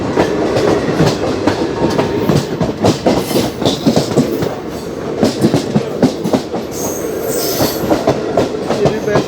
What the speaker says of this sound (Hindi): ये भी पैसेंजर टाइप की ट्रेन लग रही है।